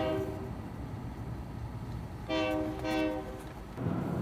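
At a rail yard in Gallup, New Mexico, a train sounds two distinct horn blasts at moderate distance over a steady low rumble of rail traffic.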